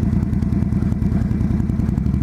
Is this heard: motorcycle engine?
yes